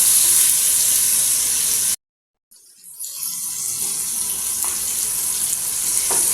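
Garden eggs fry in hot oil with a loud, steady hiss that cuts out abruptly into brief silence, then returns gradually with crackling sizzle and a couple of small clicks.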